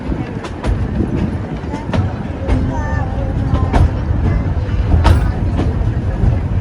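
Steady rumble and rattling of a moving train carriage with periodic clicks, voices murmuring nearby over the constant noise.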